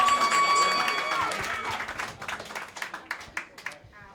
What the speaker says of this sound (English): Ladies and gentlemen, clap it up, clap it up, clap it up.